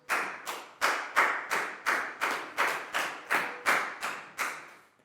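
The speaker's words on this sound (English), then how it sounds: "High five and a big round of applause for Prel, please, guys." Students clapping in a primary school English classroom, about a dozen evenly spaced, crisp claps in a steady rhythm, close and clear, with no talking.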